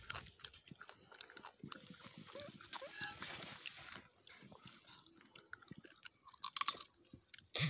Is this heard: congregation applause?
no